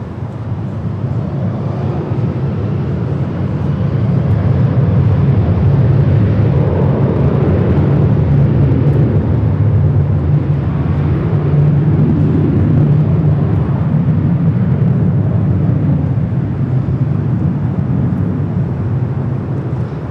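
A Southwest airliner takes off from runway 24 left at LAX at night, its jet engines a loud, broad, steady roar that swells and holds through the middle before easing slightly, with no talk over it.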